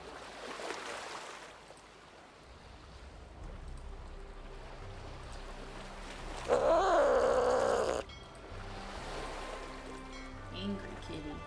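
In the Nancy Drew: Sea of Darkness video game, an angry cat hisses and yowls in one harsh burst of under two seconds over a steady sea-and-boat background, with a voice speaking before it.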